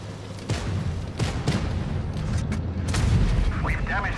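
Tank cannon fire in World of Tanks Blitz from a Vickers MBT Mk. 3: several sharp booming shots at irregular intervals over a low rumbling battle bed, with fainter distant blasts between them.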